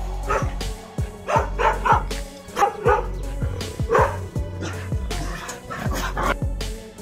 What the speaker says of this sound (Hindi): अचानक उसके पालतू कुत्तों ने भौंकना शुरू कर दिया